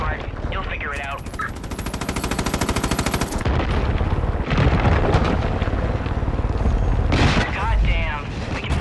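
Mounted machine gun firing in Far Cry 5, long rapid bursts of loud close gunfire mixed with heavy booms and explosions, with voices speaking over the din.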